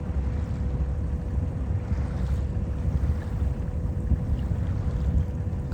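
Sailboat motoring along a channel on a windless day, a steady low engine drone with water wash and some wind rumble on the microphone, continuous and close.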